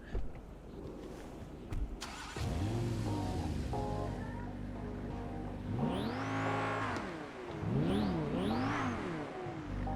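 A car engine in a Grand Theft Auto V roleplay server revs up and falls back several times, close and loud, with rising and falling whines and a faint whoosh.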